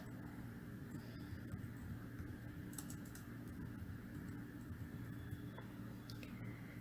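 Keys clicking on a computer keyboard as text is entered into an Excel formula, faint light taps scattered over a steady low background hum.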